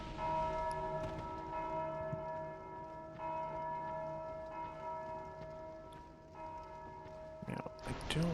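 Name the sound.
bell ringing in Dark Souls II video game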